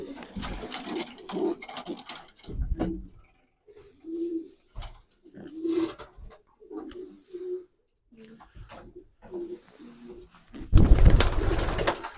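Domestic pigeons coo in short, repeated rounded phrases close by at a pigeon show in a Ukrainian village club, with pauses between calls and a louder burst of rustling near the end.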